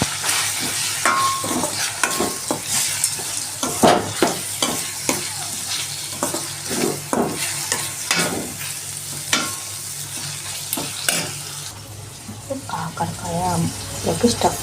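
Stuffed bitter gourd frying in a pan while a spoon stirs it, with rhythmic scraping strokes over a steady, close sizzle.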